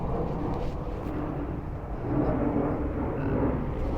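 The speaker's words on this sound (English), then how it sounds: "the roar of jet noise, because, well, Washington, D.C." A distant jet aircraft roars over Washington, D.C., outdoors by the water, making a steady broadband rumble that swells slightly midway and holds through the whole stretch with no talk.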